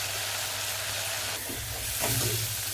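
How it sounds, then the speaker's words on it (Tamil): Onions sautéing in a pan for a Tamil-style chicken curry, a steady close frying sizzle with soft stirring scrapes and no talk. "வெங்காயம் நல்லா வதங்கிச்சு."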